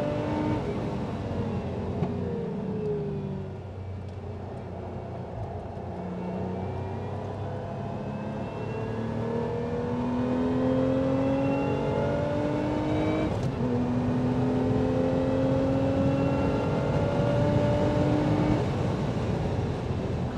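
A Lotus Emira accelerating around the Donington Park race circuit, its engine note climbing repeatedly through the gears as it is driven hard, heard steadily from inside the car with no talk.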